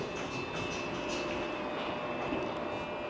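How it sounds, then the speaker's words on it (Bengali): A suspended monorail in Japan on the Shonan line from Ofuna toward Enoshima pulls away with a steady, faint mechanical hum and rumble, continuous and without talk. "প্রিয় বন্ধুরা দেখতে পাচ্ছেন আপনারা জাপানের সেই ঝুলন্ত ট্রেন ঝুলন্ত ট্রেন"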